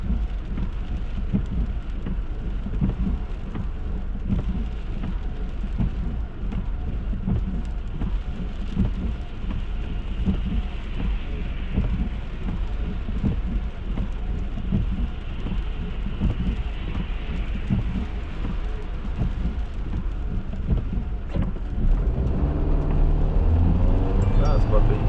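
Freezing rain and sleet falling during a November storm, a steady dense hiss of precipitation with passing vehicle rumble underneath and a voice talking over it.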